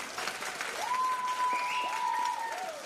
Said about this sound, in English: Let's do a round of applause for that.